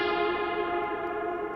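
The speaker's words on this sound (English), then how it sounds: "here now you have the reverb channel" A soloed, fully wet synth reverb channel rings out as a sustained, bright, shimmering wash of tone, steady and fairly loud without pause and without any voice.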